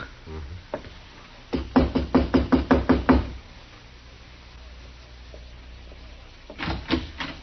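Knocking on a wooden door in a 1950s Western radio drama: a quick series of about eight loud, evenly spaced raps, a pause, then a shorter burst of knocks, with no talk.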